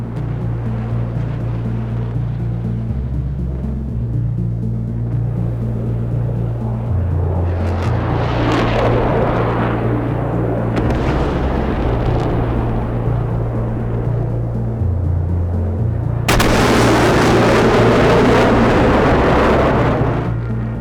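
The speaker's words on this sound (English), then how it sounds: "a MiG-29 jumps out of the clouds to start tearing into Blue aircraft not far from their home fields" A MiG-29 jet in the DCS combat flight simulator, attacking aircraft after diving out of clouds, gives a continuous loud engine roar with a shifting low drone, ending in a brighter, rushing surge.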